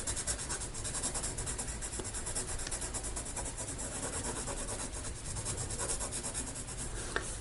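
Graphite pencil shading and blending on paper, a steady, close, dry scratching and rubbing texture that continues without pause and without speech.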